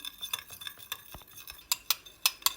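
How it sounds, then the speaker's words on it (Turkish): A spoon stirs a yogurt-making mixture in a bowl, giving a run of light scrapes followed by four sharp, close clinks of metal against the rim, with no voices. "Bunu burada karıştırıyorum."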